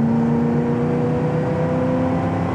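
Steady engine drone from a 1980 Chevrolet Camaro Z28 cruising on the road, a constant hum and whir with no talking, heard from inside the car at an even level.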